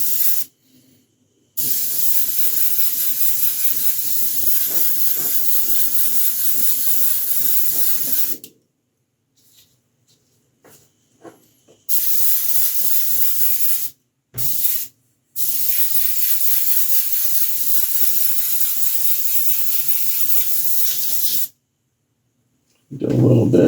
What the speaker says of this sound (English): I think I'll mist this over everything a little bit to shift the color